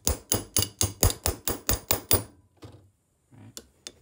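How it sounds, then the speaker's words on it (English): Sharp metallic taps from a tool striking a Nissan 240SX KA24E engine, about nine evenly spaced close, loud hits in quick rhythm, followed by a few fainter clicks and knocks. "I'm gonna tap it."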